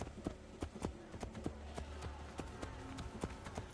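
Rapid, rhythmic hoofbeats clatter steadily over a low rumble, a horse galloping in the video game Assassin's Creed Brotherhood, fairly quiet and without speech.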